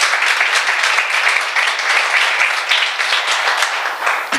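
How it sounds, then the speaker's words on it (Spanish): Church congregation clapping loudly during a Sunday morning service. The sustained, dense applause is near and steady throughout. "Aplauda fuerte al Señor esta mañana."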